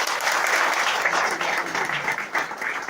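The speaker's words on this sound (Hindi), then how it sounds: "तो हम चाहेंगे स्वास्थ्य के नाम पे एक बार जबरदस्त ताली मारिए।" An indoor audience at a health-product seminar claps loudly and continuously, a dense, sustained applause with no break.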